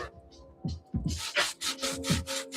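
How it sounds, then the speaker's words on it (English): A brush scrubs dirt off the lower sole of a sneaker, giving a run of close, rhythmic bristle strokes that grow louder partway through, with a faint hum underneath. "Loosen up any dirt on the lower sole. That's all I use this brush for."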